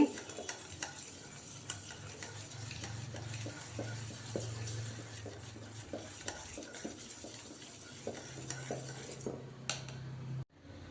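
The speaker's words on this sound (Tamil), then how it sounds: "இப்போ இதை நல்லா பீட் பண்ணி நல்லா ஒயிட் கலர் வர அளவுக்கு கலர் மாறுற அளவுக்கு பண்ணிக்கோங்க" Ghee and sugar beaten by hand in a bowl for ghee biscuit dough: a steady run of close, rhythmic scraping and clinking strokes with no voices, stopping abruptly near the end.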